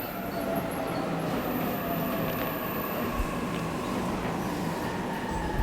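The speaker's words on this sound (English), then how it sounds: "Train's already here." A train arrives at a station in the video game Aegis Rim, with a steady, loud rail rumble, a broad hiss, and faint squeals and clicks running unbroken throughout.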